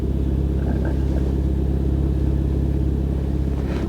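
A 2020 Mini Cooper S engine idles steadily after starting, a loud, continuous low rumble with no break and no talking.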